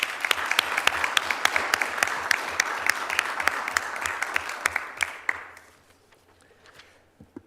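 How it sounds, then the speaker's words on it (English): Audience applause at a Middletown Township Board of Supervisors meeting, a loud crisp patter of many hands with distinct close claps, stopping abruptly and leaving a few scattered claps in a quiet room. "Can we have one more round of applause for Rebecca?"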